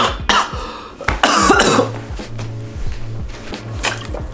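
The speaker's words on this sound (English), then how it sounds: "I just choked on my cough drop" Someone coughs hard after choking on a cough drop, a few sharp, close coughs and throat-clearing bursts followed by quieter sputtering.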